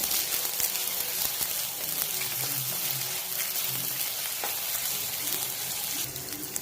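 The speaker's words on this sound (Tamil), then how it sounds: "கொஞ்சம் இஞ்சி பூண்டு போட்டுக்கலாம். நல்லா ஃப்ரை பண்ணிக்கணும்." Ginger and garlic fry in a pan of oil for a Chettinad-style goat trotter paya, giving a steady, close, broadband sizzle with a few faint stirring scrapes and no speech.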